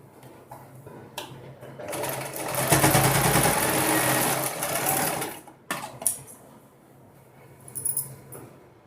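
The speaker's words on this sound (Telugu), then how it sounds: "దీన్నండి ఒకదాని మీద ఒకటి పెట్టేసేసి అడుగున కుట్టు వేసేయాలండి." A sewing machine runs steadily for about four seconds, stitching maxi dress fabric with a close, buzzing mechanical whir, then stops and gives a couple of short bursts near the end.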